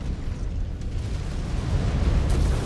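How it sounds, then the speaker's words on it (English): Artillery shells pound the ground in the mech combat game MechWarrior 5: Clans, a deep rolling rumble of explosions that builds louder toward the end, dense and continuous, with no speech. "All units, watch those artillery impacts."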